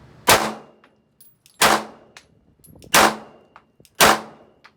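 Four sharp pistol shots from an Archon Type B handgun ring out alone at a steady, unhurried pace, each a loud crack with a brief metallic ring, with small clicks of handling between them.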